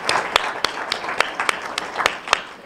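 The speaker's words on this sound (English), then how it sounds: "Let's give them a round of applause" Light applause from a small audience honoring students at a Delaware Tech campus event, with scattered distinct claps standing out over a soft, thin patter, lasting only a few seconds.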